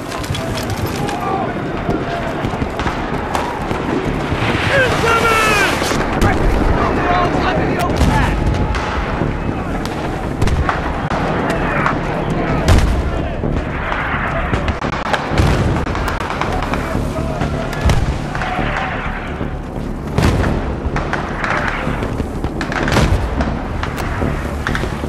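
Mortar blasts and gunfire from a Battlefield 3 combat mission sound as a dense, loud barrage of booms and cracks, with shouting voices and battle noise running continuously throughout.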